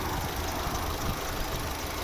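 A 2011 Opel Zafira's 1.8-litre petrol engine idles steadily with a low, even rumble, close by and unchanging, with no voices.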